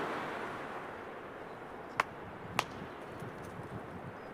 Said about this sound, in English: That was rock knocking.